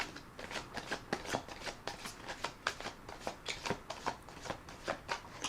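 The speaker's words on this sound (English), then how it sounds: "one more rifle and one more shuffle" Tarot cards being riffled and shuffled by hand, a close, quiet series of crisp rapid flutters and soft slaps repeating in a steady rhythm, with no talk.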